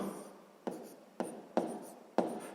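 A pen writes out a math calculation on paper: soft, scratchy strokes with four sharper taps spaced about half a second apart, close and quiet.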